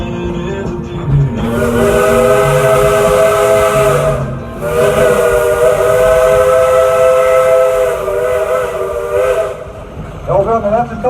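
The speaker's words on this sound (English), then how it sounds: "I can hear the whistle from a mile away" A Dollywood steam train's whistle blows loud and close in two long blasts separated by a short gap, steam hissing around it.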